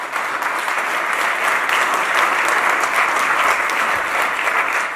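Audience applause for panelists at a CoinGeek London Bitcoin conference: dense, steady clapping from a sizable crowd that holds evenly for the whole stretch, with no voices over it.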